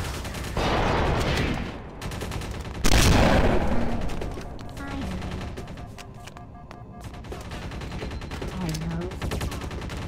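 A gun in the video game Halo fires in bursts of sharp, loud shots, with a heavy blast near the start and rapid volleys following amid game noise.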